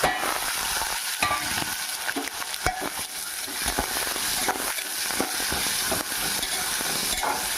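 Tomato pieces for an Andhra-style mushroom gravy fry in hot oil in a pan, giving a steady, close sizzle broken by repeated scraping and knocking of a spoon as the mixture is stirred.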